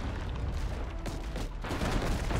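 Cannon and mortar fire from ship battles in the video game Abandon Ship, a dense, continuous barrage of booming shots with a sharp burst near the middle, loud and close with no talking.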